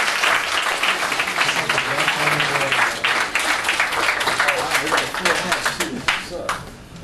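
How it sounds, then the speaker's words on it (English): Sustained audience applause at a music industry panel event, many hands clapping densely and evenly for several seconds, with faint voices mixed in. "Give him a round of applause as he makes his way to the stage."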